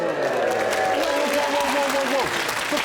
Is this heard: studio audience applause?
yes